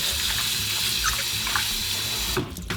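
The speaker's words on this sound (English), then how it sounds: "A rinse, a squeeze, get all that water out." Kale leaves are rinsed under a running kitchen tap, a steady close hiss of flowing water splashing over the greens, cutting off abruptly near the end.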